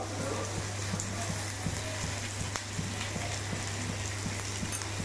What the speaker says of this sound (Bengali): একটু ভেজে নেবো এগুলো।